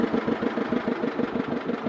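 A boat engine idles steadily at close range, a continuous throbbing low rumble with a faint regular pulse.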